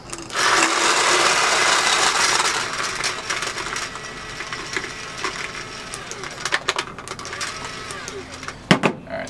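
A high-end paintball loader feeding paint gives a loud, rattling motorized whir that fades into irregular clattering and clicks, ending with a few sharp knocks.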